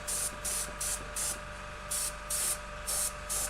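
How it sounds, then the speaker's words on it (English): Short hissing bursts of air from an airbrush driven by its compressor, used on a pastel mica acrylic pour; about eight evenly spaced spurts, each roughly a quarter second long, close and moderately loud, with no talking. "There goes the airbrush compressor."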